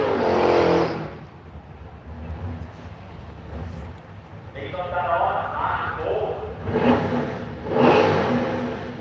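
A drag racing car at a street machine drag challenge revs hard in bursts, engine roars rising and falling across the clip, heard alongside a commentator talking.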